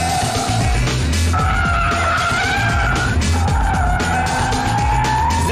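A Mazda RX-8 rotary engine driven hard and fast, its rising engine note looping through gear changes while tires skid and squeal loudly and continuously close by.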